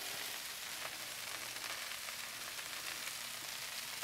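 Broccoli and onion sizzling on a Blackstone griddle, a steady bright frying hiss with occasional small pops, even and close throughout with no talk.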